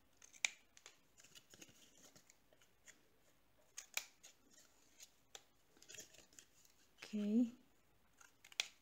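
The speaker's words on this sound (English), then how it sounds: "now we are going to cut the corners so it can be folded" Scissors snip the corners of paper pieces for a handmade cards-and-envelopes mini album, several short crisp cuts spread across the clip under quiet talk.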